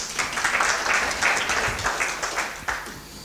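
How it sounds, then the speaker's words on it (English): Audience applause in a room at an NLP and hypnosis session, dense continuous clapping from a crowd at fairly close range with a few sharper individual claps standing out. "Give him a round of applause."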